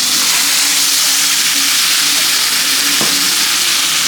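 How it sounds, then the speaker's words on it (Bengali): Ginger-chilli paste with a little water frying loudly in a pan, a dense, continuous sizzle and hiss with occasional scraping as it is stirred, close and without speech. "এখন নাড়িয়ে দিই।"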